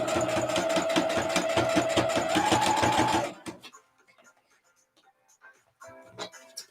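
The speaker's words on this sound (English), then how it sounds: "Let's get this channel sewed in." Sewing machine stitching a boning channel into a corset, a loud rapid steady whirring run for about three seconds that then stops, followed by quiet handling and a person talking.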